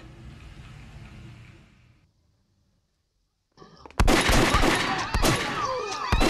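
Gunfire from the Hong Kong action film A Better Tomorrow: a low rumble fades to near silence, then dense, loud volleys of shots and crackling impacts burst in and keep rattling.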